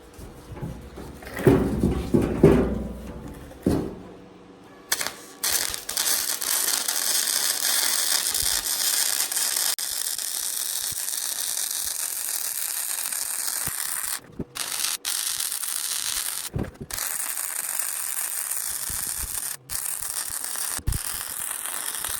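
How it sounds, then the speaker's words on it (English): Steady crackling hiss of arc welding along a flat steel cook top on a 55-gallon barrel wood stove, running continuously for long stretches with brief pauses between beads, after some initial clanking handling. "start my weld"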